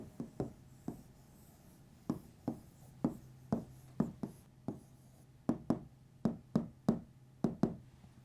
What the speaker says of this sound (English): let's see how much faster it is to write this word like this rather than like this